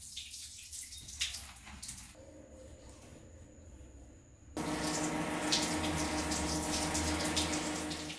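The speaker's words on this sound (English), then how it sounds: "Now I have to wash it under the shower." Water runs under a shower as a urine-soaked towel is rinsed, first a choppy, shifting splash with a pause, then a strong, steady gush that pours loudly and continuously up close.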